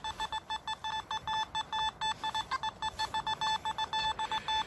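Rapid electronic beeping from a metal detector, a quick, steady train of short tones pulsing close by, with no voices.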